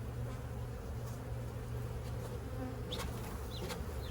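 A swarm of honey bees shaken from a nuc box hums in a steady, dense drone, close by, with individual bees zipping past now and then.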